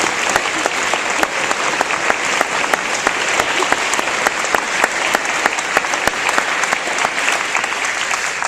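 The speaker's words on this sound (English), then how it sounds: "Please let's give her a warm round of applause." An audience at a school gathering gives a warm, sustained round of applause for a state representative, with a few sharper individual claps standing out through the steady wash.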